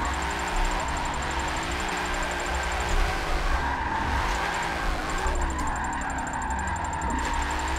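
A drift car engine in Forza 7 holding high revs in third gear, a loud continuous droning whine that rises and falls as the car slides, with tire skids close up.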